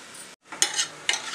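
About a quarter kilo of marinated chicken goes into a hot pan of tempered spices and is stirred while frying, giving brief scraping stirs and rising sizzle bursts after a short silent pause.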